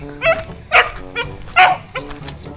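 A dog barks several times in short, loud bursts, with softer yips and background noise between barks.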